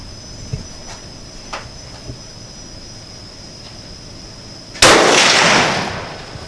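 One loud, close rifle shot from a CZ 557 bolt-action rifle at a shooting range cracks sharply and rings out with a decaying tail, following a few faint clicks and taps.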